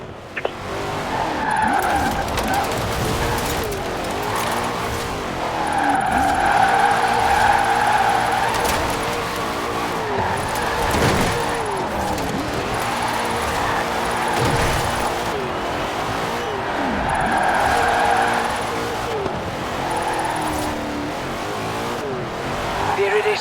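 A car drifts in Forza Horizon 4 with sustained tire squeals and an engine revving up and down in long repeated swells, loud and close, while someone talks briefly over it.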